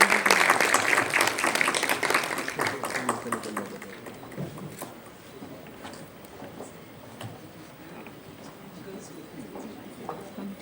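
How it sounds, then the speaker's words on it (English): Audience applause at a creative economy forum in India, loud and dense at the start, then thinning over about four seconds into scattered claps and room noise. "give a huge round of applause."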